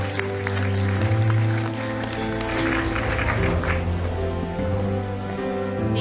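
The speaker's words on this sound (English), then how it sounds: "A round of applause, please." A conference audience applauds to welcome Deputy Minister Lin to the stage at a Pacific climate and health partnerships session, a steady wash of clapping over sustained, loud tonal music.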